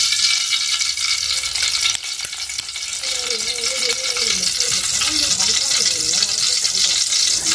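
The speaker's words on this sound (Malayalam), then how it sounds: "ഇതിലേക്ക് നമുക്ക് ഇനി ആവശ്യത്തിന് നെയ്യ് ഒഴിച്ചെടുക്കാം" Ghee being poured into a hot pan for semolina kesari, giving a steady sizzling, frying hiss throughout with faint stirring sounds; no talk.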